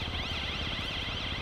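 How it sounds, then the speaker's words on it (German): A police car siren in GTA V wails in a fast warbling cycle, loud and continuous over a low engine rumble, close by, with no talking. "Sag mal, ist das mein Auto, die Sirene?"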